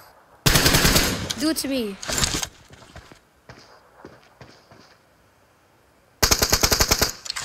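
Rapid automatic gunfire in a first-person shooter's team deathmatch mode: a long burst, a short burst, then sparse shots and a player talking, before another loud sustained burst.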